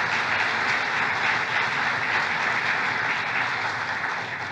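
A crowd at a business association board meeting applauds in a steady, dense wash of clapping that keeps going throughout before easing slightly at the end.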